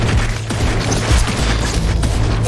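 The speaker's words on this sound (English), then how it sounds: "Oh no, it's a homing missile." A homing missile explodes in the action game The Incredible Adventures of Van Helsing, a loud, close boom amid continuous rumbling combat noise lasting a few seconds, with no talking.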